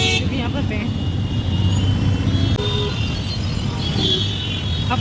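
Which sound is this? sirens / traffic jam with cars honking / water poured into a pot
traffic jam with cars honking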